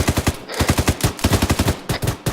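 Rapid automatic gunfire from the military shooter game ArmA 3, several loud close bursts of rhythmic shots with short pauses between them, no talking.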